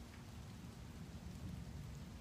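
Rain pouring steadily and close, hitting a phone, a dense even wash of drops with a low rumbling undertone.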